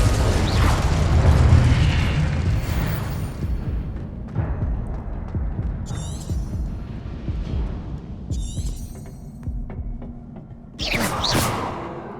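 Confringo blasting spell in Hogwarts Legacy: a heavy booming explosion up front, loud and close, fading into rumbling debris with later sharp magical bursts and crackles.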